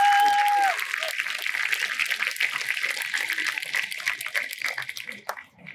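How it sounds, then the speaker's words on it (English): Sustained audience applause at a military academy graduation ceremony for the class of 2024, a dense crackle of many hands that begins just after a short tone and slowly thins toward the end. "Another round of applause, please."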